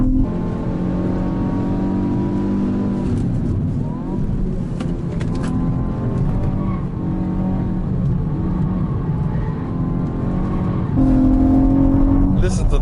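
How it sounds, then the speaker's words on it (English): Hyundai i20 N hot hatch with a four-cylinder turbo engine, droning steadily and loudly throughout with a louder rise near the end, while a person talks over it. "Listen to that sound. The 4-cylinder 1006 turbo really has a realistic voice"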